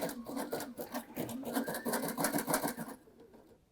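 A Baby Lock Sashiko sewing machine stitches steadily, its rapid rhythmic mechanical chatter running close and loud for about three seconds before stopping abruptly.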